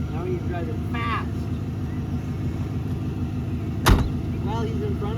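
A shop project vehicle that has just been made to run and drive goes by quickly, giving a steady engine rumble with one sharp bang near the end, while voices talk over it.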